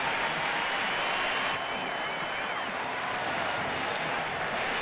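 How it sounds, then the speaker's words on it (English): Home crowd applause at a Washington Nationals home opener baseball game, a dense, sustained roar of clapping and cheering from a large stadium audience throughout. "a standing ovation for number 47 from the home crowd"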